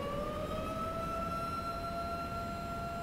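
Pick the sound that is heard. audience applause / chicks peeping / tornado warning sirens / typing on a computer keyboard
tornado warning sirens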